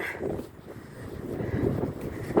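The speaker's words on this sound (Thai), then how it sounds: "ลมปะทะตึก" Gusty wind sweeps against and around a building outdoors, producing a loud, close, low rumbling buffet that swells and eases in uneven surges, with no talking.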